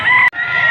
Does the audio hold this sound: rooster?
yes